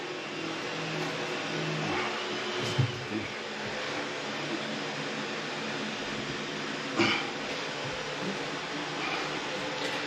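An angle grinder grinds the corner of a motor bed in a steady, loud, continuous whine with a couple of brief sharper bumps where it bites the metal.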